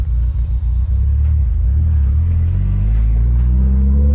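A Subaru or Mitsubishi Evo engine runs close by with a loud, steady, deep rumble that thickens slightly as it holds.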